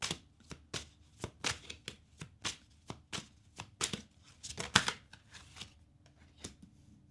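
Oracle cards being shuffled by hand to draw an extra card: a quick run of crisp, close riffling snaps in a loose, uneven rhythm, with no talking over them.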